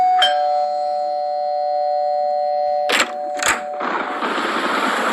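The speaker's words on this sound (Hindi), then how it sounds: "उसे डोरबेल की आवाज सुनाई पड़ी" A doorbell chimes with a clear, ringing electronic tone that lingers, followed by a couple of sharp knocks or clicks and a rushing noise.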